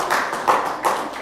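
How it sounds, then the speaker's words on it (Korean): A church congregation claps hands during a Sunday afternoon sermon, a brief burst of rhythmic clapping that swells in a few pulses, moderately loud and fairly close, with no talking over it. "이때는 이제 남편들은 전부 감사하다고 박수를 쳐줘야죠."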